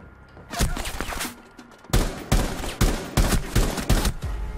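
Rapid bursts of gunfire from the video game Rainbow Six Siege, several sharp loud volleys in quick succession with short gaps between them, close and dense.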